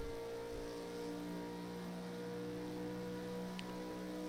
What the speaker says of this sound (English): you can hear this car just about hitting the limiter into turn number 20, hard on the brakes